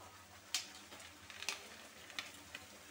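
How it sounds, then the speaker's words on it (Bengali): Fried prawns going into a cashew-poppy masala for potol chingri, with a faint low sizzle in the pan, broken by a few sharp stirring clinks and ticks. "এখন আমাদের ভেজে রাখা চিংড়ি মাছগুলো দিয়ে দিচ্ছি"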